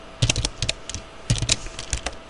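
C++ code being typed on a computer keyboard: two quick bursts of close, crisp key clicks in an uneven rhythm, each burst followed by a short pause.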